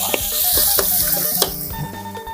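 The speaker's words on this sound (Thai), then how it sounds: "น้ำมันร้อนแล้ว กระเทียมลงไปแล้ว" Garlic dropped into hot oil sizzles loudly and steadily, with a few quick stirring scrapes on the pan, close by and uninterrupted.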